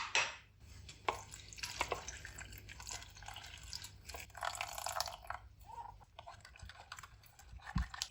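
Water is poured into a cooking pot of palak matar, with splashing and dripping bursts scattered through the stretch and utensil clinks near the end.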